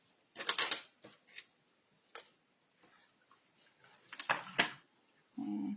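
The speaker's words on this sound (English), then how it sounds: "Just snip it." Paper is snipped with scissors in a few quick separate cuts, crisp and close, with quiet handling sounds between them.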